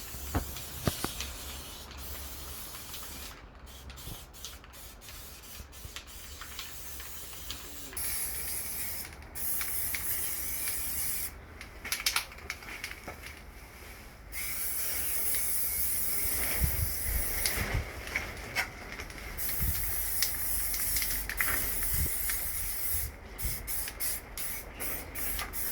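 Spray primer hisses from a shaken aerosol can onto homemade gym weight plates in steady bursts of varying length, loud and close, with short gaps and no talk.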